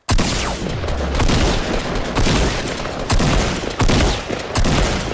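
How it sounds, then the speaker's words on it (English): Shotgun fire in the Fortnite battle royale game comes as loud, repeated heavy blasts, about five booming shots over a dense, continuous roar of gunfire with no talking. "I actually missed a few shots with the shotgun, but I still managed to take him out"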